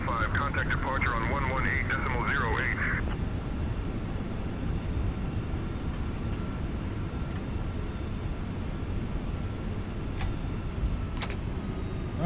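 A simulated MD-11 airliner lands with reverse thrust engaged, giving a loud, steady roar of rushing engine noise. A voice speaks briefly at the start, then the roar continues alone.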